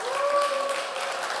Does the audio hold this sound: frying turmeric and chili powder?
no